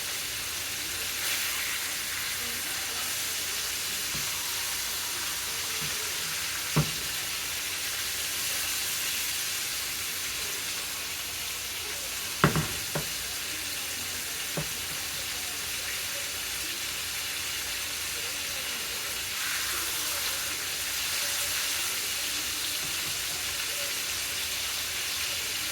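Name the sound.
pork chops frying in a pan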